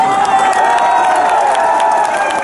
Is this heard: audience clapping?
yes